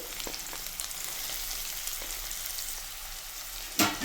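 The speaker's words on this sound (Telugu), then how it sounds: "ఆయిల్ హీట్ అయిన తర్వాత నాలుగైదు వెల్లుల్లి కట్ చేసి ఇలా వేసుకోండి" Garlic, green chili and onion slices sizzling in hot oil in a pan, a steady close crackling hiss with a few sharper pops and a louder spatter burst near the end.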